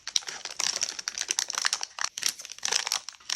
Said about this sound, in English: let's open up our accessories packet